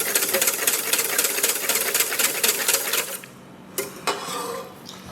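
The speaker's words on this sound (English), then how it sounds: "And I will keep beating this for a few more minutes." Aged egg nog mixture is beaten in a bowl with a fast, even rattle for about three seconds, then stops; a few scraping knocks follow as the beater is set down.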